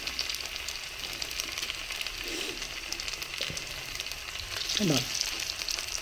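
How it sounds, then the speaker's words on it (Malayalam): Pieces of spiced masala-coated food sizzle and crackle steadily in hot oil in a frying pan while being turned, a dense continuous hiss close up, with a few utensil scrapes and a brief spoken word. "അപ്പോൾ അതിനെ തിരിച്ച് മറിച്ചൊക്കെ ഇട്ട് നന്നായി ഫ്രൈ ചെയ്തെടുക്കുക."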